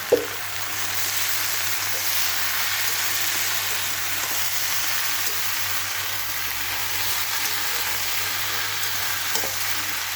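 Mixed vegetables with brinjal fry in a pan, a loud, even sizzle running continuously from near the pan, with a sharp knock at the start and an occasional faint clink.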